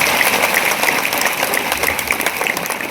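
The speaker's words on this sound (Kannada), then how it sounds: "ಚಪ್ಪಾಳೆ ಹೊಡಿರಿ." A crowd at a women's community gathering in Bagalkot claps in dense, steady applause, loud and continuous throughout with no voices over it.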